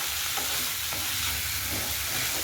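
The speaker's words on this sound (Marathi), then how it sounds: "बटर मध्ये पटकन आपले जे पनीर क्यूब्स आहेत ते टाकायचे" Paneer cubes roasting in butter in a pan for paneer butter masala, giving a steady, close, continuous sizzle with no talking.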